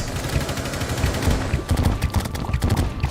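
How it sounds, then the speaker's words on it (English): Rapid automatic gunfire sprayed in Rainbow Six Siege, a loud dense stream of close shots in continuous bursts with brief uneven gaps. "this guy when he shoots at someone, he's just spraying left and right, up and down"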